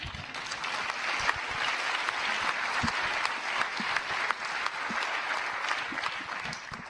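An audience at a French talk on democracy and a citizens' initiative referendum gives a speaker sustained applause, a full, even roar of many clapping hands with occasional sharper claps and a few scattered voices.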